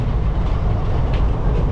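Passenger train 55750 from Haldibari to New Jalpaiguri running at around 90 km/h, giving a steady, loud, close rumble of wheels and carriages that stays unbroken throughout.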